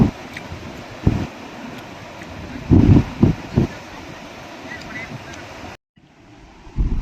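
Sea waves on the beach at Digha roll in as a steady, close roar, with several louder surging bursts of surf; the sound cuts out briefly near the end, then resumes more quietly.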